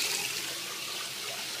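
Hot water runs steadily from a tap during shaving, a close, even hissing splash that continues without pause for the whole short stretch, with no voices.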